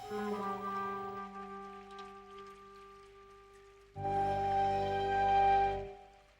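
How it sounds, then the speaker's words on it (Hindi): Heavy rain pours down in a Doraemon cartoon scene, a dense steady wash of noise that runs through the clip. It swells loudest near the end, with sustained tonal layers running alongside it. "कितने जोरों की बारिश हो रही है"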